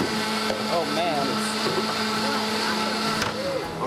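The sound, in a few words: Breville JE98XL juicer running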